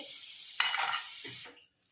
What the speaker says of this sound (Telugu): ఈ నట్స్ అనేవి 2 రకాలుగా అయితే వేయిస్తున్నాను